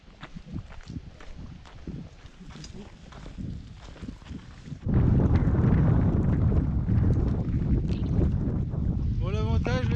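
Icy wind buffets the microphone during a mountain ultra trail race, starting moderate with footsteps and rustling, then turning into a loud, sustained roar halfway through, while a person talks throughout.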